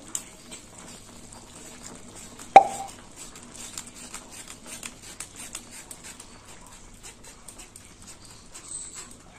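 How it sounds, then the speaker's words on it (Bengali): Soaked, ground mustard paste drops into a cooking pan with one sharp, close plop, followed by faint scattered clicks and quiet kitchen sounds. "দিয়ে দিলাম সর্ষে বাটা"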